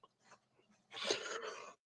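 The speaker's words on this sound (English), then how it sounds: "No, I was coughing." A single close, short cough bursts out after a faint breathy lead-in, quiet overall and alone.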